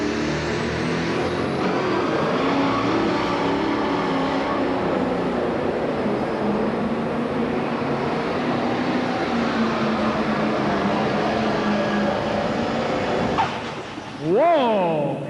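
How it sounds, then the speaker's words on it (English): A Massey Ferguson pro stock pulling tractor roars loud and sustained at a 1997 pull in Louisville, Kentucky, then drops off, leaving a brief burst of crowd noise. "Massey Ferguson's got a different kind of sound, folks"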